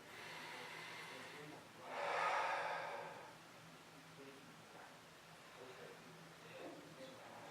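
A person holding a bilateral cable row position breathes audibly, with one loud, long exhale standing out against quiet background noise and a few faint, soft breaths afterward.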